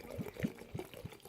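Liquid is poured into a glass coffee jar for a homemade smudge spray, producing quick, rhythmic glugging pulses that sound close and quiet.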